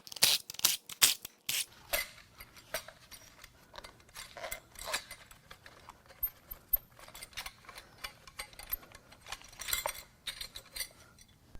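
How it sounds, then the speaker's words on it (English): Ratchet clicking and metallic clinks while the fuel rail is unbolted on a 2014 BMW 328i with the N20 2.0L engine, a dense burst of quick ratcheting at first followed by scattered lighter clicks and tool taps, close up. "Now we can unbolt the fuel rail."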